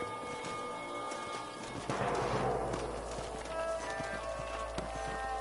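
Horses in the video game Red Dead Redemption, hooves clip-clopping at a walk with a brief whinny, a rider group slowing to dismount, with rhythmic hoofbeats continuing steadily and a low ambient rumble beneath.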